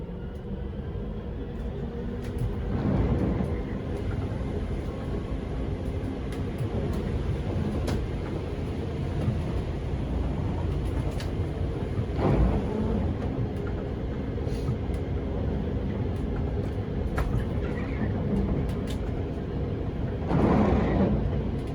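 A Rosenbauer fire truck drives along, its low engine rumble and road noise steady throughout, with a few louder surges and knocks along the way.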